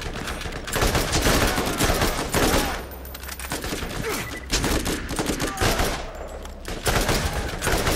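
Rapid rifle gunfire from a video game, Borderlands, in sustained loud bursts with short pauses between volleys.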